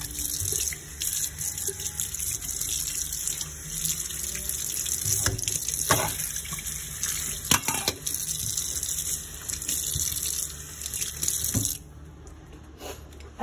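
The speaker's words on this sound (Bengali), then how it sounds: "ডিমের খোসাগুলি ধুয়ে নিই" Eggshells rinsed under a running kitchen tap, with a steady close rush of water into the sink broken by a few splashes and knocks, continuing for over ten seconds before easing off near the end.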